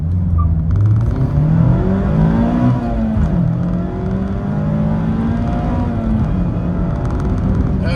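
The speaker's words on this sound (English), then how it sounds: "Okay, 0 to 60 run there" A 2024 Mazda MX-5 Miata ND3 with its 2-liter four-cylinder accelerates hard from a standstill. The engine pitch climbs loud and close, drops briefly at each gear shift, then rises again.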